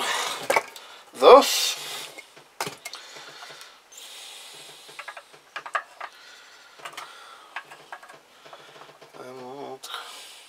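Gear cluster and gear chain dropped into a Kawasaki GPZ500S engine case: scattered metallic clunks, ticks and ratcheting clicks, one louder knock early on, close and intermittent, with someone talking between them.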